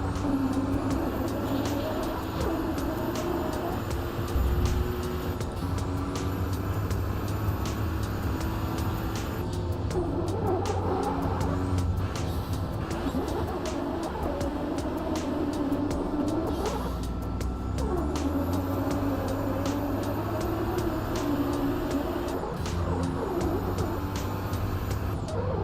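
Racing engine drone in a Forza game, a steady loud roar with pitch that rises and falls through gear changes and hard braking, continuing throughout with no speech.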